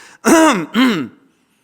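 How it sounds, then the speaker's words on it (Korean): A single deliberate throat clearing in two quick voiced bursts, close and distinct, followed by silence. "아버지는 그냥 안방에서 헛기침만 하셨어요"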